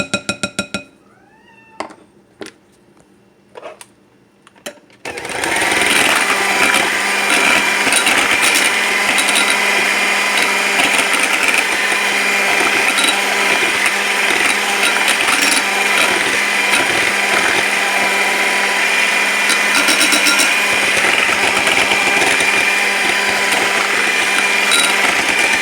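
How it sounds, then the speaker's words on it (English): An electric mixer whips shea and mango body butter, a loud, steady motorized whirr that starts abruptly after a few seconds of quiet clicks and scraping and then runs continuously to the end. "I do see some lumps, so I'm going to just whip it one more time."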